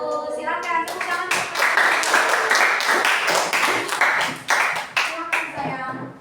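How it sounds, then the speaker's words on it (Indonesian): Classroom applause breaks out for a group presentation, a crowd of students clapping steadily for several seconds, close and lively, with children's voices chattering under the claps. "Silakan, tepuk tangan."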